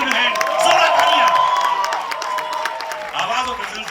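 A large audience at a film teaser launch event greets Sunny Deol with loud, sustained applause, clapping and scattered cheers and whoops, filling the hall throughout with crowd noise.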